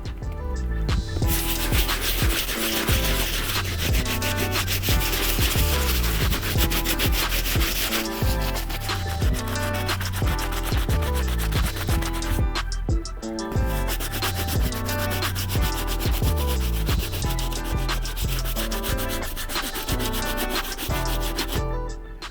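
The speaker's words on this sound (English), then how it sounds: "The next brush we're going to be using is our medium bristle brush, so we can continue getting all the stains, grime, and dirt off the uppers." A medium bristle brush scrubs the uppers of a destroyed Air Jordan 4 Black Laser sneaker, giving steady, close, continuous rubbing and scratching strokes with a brief pause partway through, no voices.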